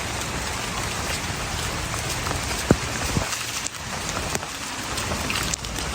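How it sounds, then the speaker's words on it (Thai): Steady light rain patters continuously on leaves and ground in a forest at Khao Yai, a dense even hiss with occasional louder drops nearby. "ฝนยังไม่หนักมาก ผมก็ยังไม่ใส่เสื้อกันฝนนะ"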